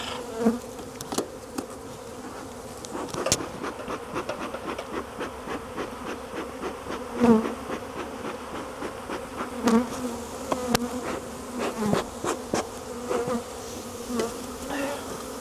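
Bees buzz densely around a full beehive, a continuous drone with individual insects passing close and clicking or thumping faintly against the hive, and no talking.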